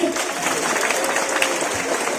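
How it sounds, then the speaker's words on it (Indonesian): Applause from a crowd at a religious gathering in Banjarnegara is a dense, continuous wash of many hands clapping, loud and steady for the whole span. "Tepuk tangan maning"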